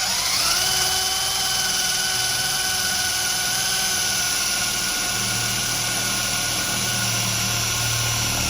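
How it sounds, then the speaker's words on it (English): A power drill bores through a metal stud for a TV wall mount, giving a loud, steady high-pitched whine that holds continuously with a slight shift in pitch partway through. "Where I'm definitely gonna drill at."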